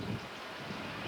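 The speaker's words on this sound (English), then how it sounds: "It's still very windy. It's gusting up to probably 50" Strong gusting wind in Miami in the aftermath of Hurricane Andrew, a dense roaring rush buffeting the microphone steadily throughout the short stretch.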